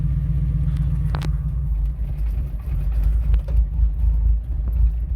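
An engine fitted with an Offenhauser dual port intake idles on propane at about 1000 RPM, giving a steady, loud low-pitched rumble with a few faint clicks and knocks over it.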